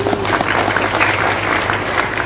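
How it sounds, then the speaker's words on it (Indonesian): Dense applause from an audience at a live religious lecture held for a regency anniversary celebration in Ungaran, Semarang, a steady wash of many hands clapping throughout with a low hum underneath. "Tepuk tangan padahal gak mudeng."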